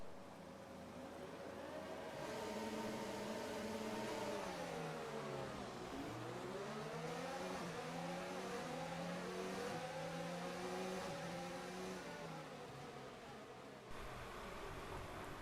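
Formula 1 cars accelerating off the grid at Azerbaijan in the F1 2019 video game: a loud, continuous engine roar that climbs in pitch through repeated upshifts, holding steady for the whole stretch with no talk.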